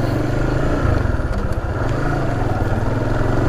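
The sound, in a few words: Honda Supra GTR 150 motorcycle riding off-road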